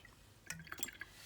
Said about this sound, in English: wipe it like this and your paint will drip down into the